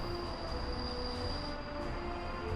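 A train in the city-builder game Workers & Resources: Soviet Republic gives a steady rumbling run with a thin, sustained high squeal on top, continuous and fairly quiet throughout.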